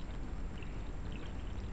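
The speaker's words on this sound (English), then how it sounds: "there is water flow inside back from that small pump over there" A small pump drives water through a DIY UV sterilizer for an aquarium tank, giving a steady, close, hissing gush of flowing water with no talk.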